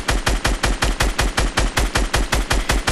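Assault rifle fire from the Fortnite video game rattles off in a steady, rapid burst of evenly spaced loud shots lasting about three seconds, with no voices over it.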